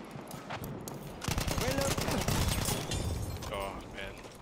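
Rapid automatic gunfire in the video game Battlefield 1, a fast loud burst of shots that swells midway and then tapers off, with someone talking over it.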